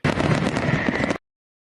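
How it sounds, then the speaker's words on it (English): Fireworks bursting as a studio sound effect, a dense crackling barrage of pops and bangs that runs loud and steady for about a second before cutting off abruptly. "let me give myself what may be the last fireworks for a minute"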